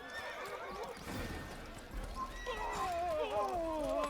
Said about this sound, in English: Okay, but my horse is just spooked forever,